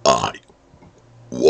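A man belches loudly and close to the mic, one long throaty burp, then a short quiet pause before another burp starts.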